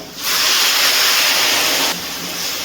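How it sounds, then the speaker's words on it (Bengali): Hot water poured into a simmering jackfruit and prawn curry sets off a loud, close, steady steaming hiss lasting about two seconds before it drops off sharply to a quieter sizzle. "এবারে আমি এর মধ্যে দিয়ে দিচ্ছি গরম জল।"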